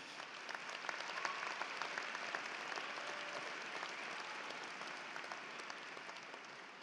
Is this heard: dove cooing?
no